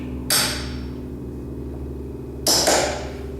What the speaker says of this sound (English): Center punch.